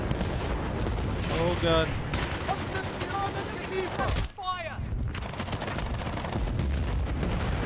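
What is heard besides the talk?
gunfire in video game Battlefield Bad Company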